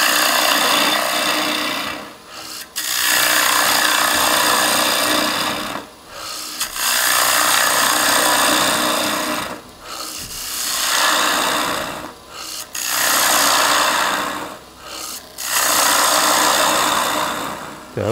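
A turning tool cuts a wooden bowl on a lathe, producing a loud, steady rasping hiss in long passes of a few seconds each, broken by short quiet gaps between cuts.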